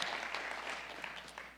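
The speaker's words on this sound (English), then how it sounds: "Round of applause." Brief burst of sustained audience applause at an awards ceremony, dense clapping at a steady, moderate level with no talk over it.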